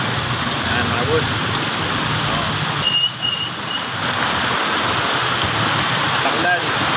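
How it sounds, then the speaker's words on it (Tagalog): Heavy rain pours down in a dense, constant hiss, with a few faint higher sounds and brief voices in the background. "lakas ng ulan."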